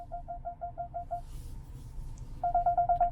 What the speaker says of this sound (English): And you can hear the parking sensors going off.